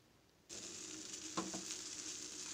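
Fried rice with mixed vegetables sizzles steadily in a hot pan as it is stirred, a constant close frying hiss that starts suddenly and carries a few soft scraping clicks.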